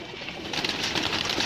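Pigeons cooing inside a loft cage, a steady low murmur of soft coos with faint rustling, close and moderately loud throughout with no talking.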